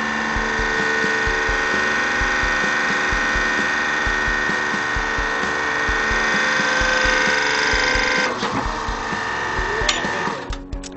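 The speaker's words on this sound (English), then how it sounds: "how it was just like flowing down when the hydraulic press head was coming down and applying pressure" A hydraulic press squeezing a gold bar sideways: a steady, loud mechanical drone with grinding, rubbing texture runs throughout, then falters and sputters in the final few seconds as the pressure releases.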